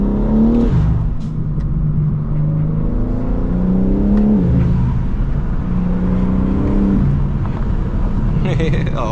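A BMW M3 CS engine is pushed hard, its loud in-cabin roar climbing in pitch through several rising revs with brief dips between gear changes, steady and close for the whole stretch.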